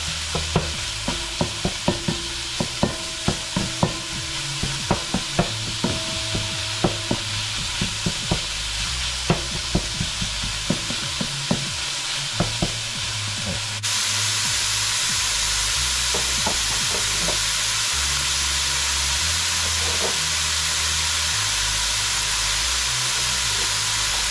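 Egg roll filling fries in a pan with steady sizzling while a lump-breaking gadget repeatedly scrapes and taps through it. The sizzle then swells into a louder, continuous hiss for the last stretch.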